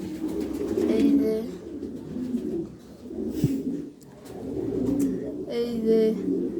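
Several pigeons in a loft coo softly in low, rolling murmurs, with occasional wing flutters and rustling nearby while someone talks over them.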